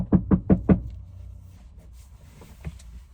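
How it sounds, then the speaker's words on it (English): Four quick, firm knocks on a van door at night, close and evenly spaced, followed by quiet with a faint later tap. "Somebody's knocking."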